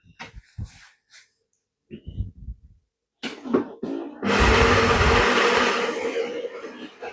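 A Saeco Lirika OTC espresso machine grinds coffee beans: a loud, steady grinding whir starts abruptly after a few soft knocks and clicks, running for a few seconds before easing off.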